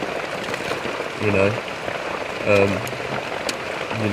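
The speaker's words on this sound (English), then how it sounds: "you don't see rain like this in the UK" Heavy rain in the Malaysian jungle pours down in a dense, steady hiss on the surrounding surfaces. It is loud and close, and two brief swells rise out of the downpour.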